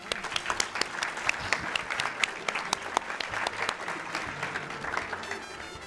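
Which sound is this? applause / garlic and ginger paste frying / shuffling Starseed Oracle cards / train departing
applause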